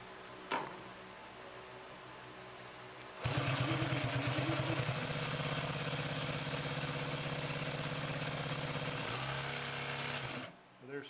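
Consew P2339RB industrial sewing machine stitching through four layers of fabric: a steady loud mechanical hum and rapid needle chatter that runs for about seven seconds, then stops abruptly, with brief handling noise before and after.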